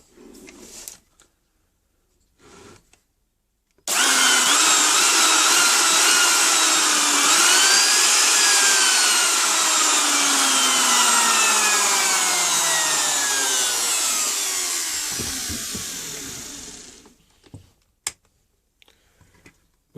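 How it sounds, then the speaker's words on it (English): An electric wood router starts up and runs for about thirteen seconds at a steady loud whine, its pitch sliding as the bit cuts through wood, then spins down, with a few short knocks before and after. "plug the router in"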